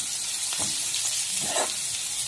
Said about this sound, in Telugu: ఆవాలు 1 స్పూన్ వేసేసి కొంచెం రెడ్డిష్ కలర్ వచ్చేంత వరకు వేయించుకుంటే సరిపోతుంది